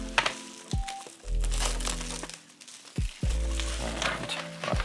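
Plastic wrap crinkles and rustles in close bursts as it is pulled off a Trustan LED light bar. Short pauses separate the bursts and a few low thumps of handling are mixed in.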